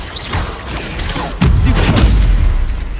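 Incendio fire spell cast in Hogwarts Legacy, bursting with a loud whooshing boom and heavy thuds amid combat impacts, the blast swelling sharply partway through and rumbling on.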